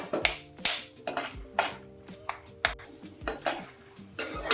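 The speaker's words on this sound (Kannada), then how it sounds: "ಈಗ ಅದಕ್ಕೆ ಪುಟಾಣಿ ಹಾಕ್ಕೊತೀನಿ." Roasted gram goes into a pan while ragi chivda is being made, with a quick series of sharp metallic clinks and scrapes of a utensil against the pan, about ten distinct hits, close and fairly quiet.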